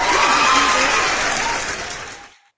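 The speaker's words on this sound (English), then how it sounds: "Can we give Rebecca a hand clap?" An audience claps for a woman at a motivational talk, a dense round of applause that fades out over a couple of seconds and ends in silence.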